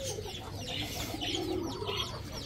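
Hens squabbling inside a chicken coop, with continuous overlapping clucks and agitated squawks from several birds close by, steady and busy throughout.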